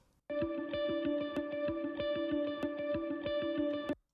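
A distorted electric guitar lead phrase plays as a steady loop, repeating short picked notes with effects-heavy tone, loud and alone with no voices.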